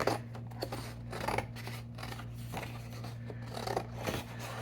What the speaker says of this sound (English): let me cut this off because we don't want this on the card